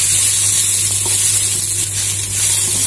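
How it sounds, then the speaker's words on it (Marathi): Onion frying in a pan for a Malvani onion-coconut masala, a loud, dense, continuous sizzle over a low steady hum, with no talking. "छान लालसर झालेला आहे कांदा आपण, त्याच्यामुळे 2 मिनिटांनी मला परतणार आहे"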